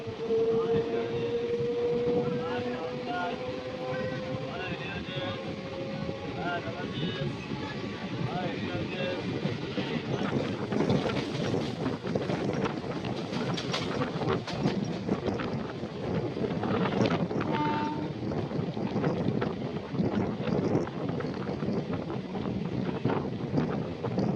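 Steady rumble of a local train running along the tracks on the Howrah–Medinipur line at night, with rattling and rushing wind across the whole stretch, a whistle-like tone early on and voices faintly underneath.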